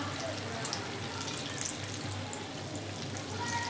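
Urad dal and potato pakoras fry in hot oil, giving a continuous soft bubbling sizzle at moderate level with no break.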